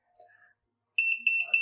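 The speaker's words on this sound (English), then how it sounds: "You will notice that the remote is now beeping, and that is a warning to tell us that the craft is not connected." A handheld T10 fishing drone remote beeps its not-connected warning, a run of high, clean electronic tones pulsing in quick succession after a few soft clicks.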